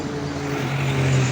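A vehicle speeds along a road beside a main junction on a hot, windy day near a junkshop, giving a loud steady engine drone with a low hum that swells as it passes close by.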